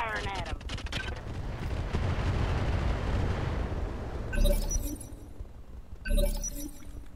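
A heavy tank gun in a war game fires at an enemy Centurion, two loud booming blasts with crashing, shattering impacts over a rumbling battle bed, heard alongside talking voices.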